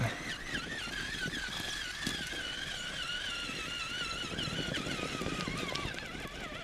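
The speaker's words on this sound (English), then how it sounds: "You can just hear those tires grabbing." Traxxas Summit RC truck in low gear scrabbling its tires over loose, rocky ground, with a steady high electric-motor whine wavering in pitch over continuous gritty crunching, close and moderately loud.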